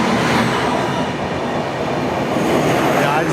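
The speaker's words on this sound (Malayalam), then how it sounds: "ഡിബ്രുഗഡ് നൈ ദില്ലി രാജധാനി എക്സ്പ്രസ് ആണ് ഈ വരുന്നത്." The Dibrugarh–New Delhi Rajdhani Express approaches with a loud, continuous rumble and rolling wheel clatter, close by and unbroken throughout.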